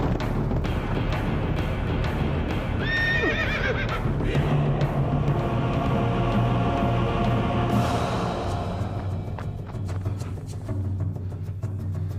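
A horse whinnies amid a dense, busy scene with low rumbling and scattered clattering, suggesting hooves, in a period drama setting; no speech is heard.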